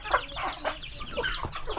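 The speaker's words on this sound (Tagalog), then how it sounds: "Ang daming manok oh." Many farm chickens clucking close by, overlapping busy cackles and chatter from several birds at once.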